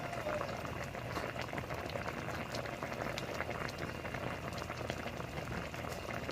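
Ilocano-style pinakbet vegetable stew bubbles in a pot over the flame, a continuous close crackle and pop of boiling liquid, fairly soft and steady throughout.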